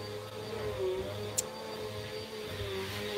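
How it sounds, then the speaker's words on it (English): A steady, droning hum of a vacuum cleaner runs throughout at moderate, even level, with no talking. "If you guys can hear me over the vacuum cleaner."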